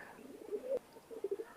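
Soft, brief cooing from a pair of Teddy 128 pigeons, a few short low murmurs close by with a quiet pause between them, no voices.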